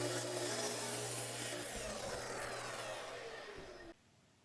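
A power saw cuts wood to length for the bottom of a compound-angle butler's tray, a steady loud whine and rasp running for several seconds before abruptly stopping.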